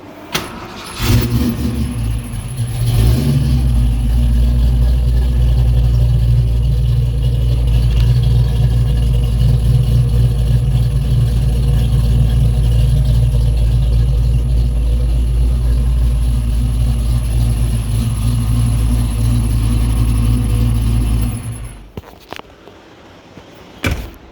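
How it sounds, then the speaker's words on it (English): A Foxbody Mustang with a freshly repaired head gasket and no tune idles steadily and loud for about twenty seconds, a deep even rumble that stops abruptly near the end. No one speaks. "It idles pretty darn good for, like, there's no tune or nothing."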